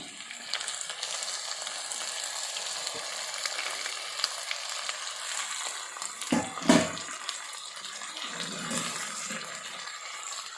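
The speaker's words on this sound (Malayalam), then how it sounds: "ഞാൻ കൊഞ്ചിട്ട് കൊടുക്കാൻ പോവുകയാണേ" Prawns sauté in a pan with onions, giving a steady close sizzle and frying hiss that runs the whole time, with a brief stirring clatter partway through and no talking.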